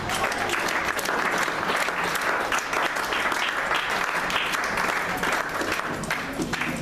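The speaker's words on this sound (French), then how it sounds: "Acclamons pour Jésus." A church congregation applauds together in a dense, steady roar of clapping that holds evenly throughout, heard from within the crowd.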